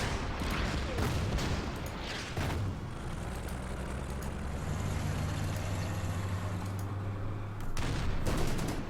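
Gunfire from the World War II strategy game Order of Battle, a battle on the Moscow front: broadband bursts of shots and rumbling fire over a low engine drone, loud and dense, with a louder burst near the end.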